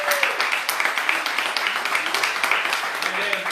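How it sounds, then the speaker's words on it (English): Audience applause at a business mastermind event, steady clapping through the whole stretch with some voices mixed in. "Clap it up for Rosie."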